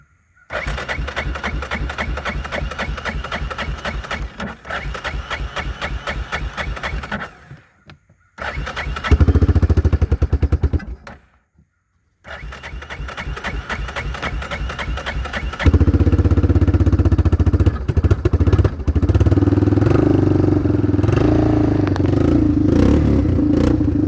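A 1999 Yamaha Big Bear 350 ATV engine cranks and runs with a steady clattering idle, cuts out briefly twice, then restarts and revs louder toward the end.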